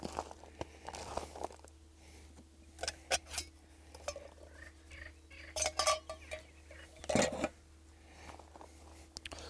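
Fishing bait of mixed seeds, hemp and corn being stirred in a dish, giving scattered scraping and clattering knocks with pauses between, close and moderately quiet, with no talk.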